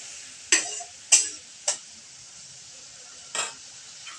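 Spices with turmeric and a little chili powder stirred in a pan for mustard-sauce koi fish, heard as a few separate scraping strokes over a faint sizzle, fairly soft and close.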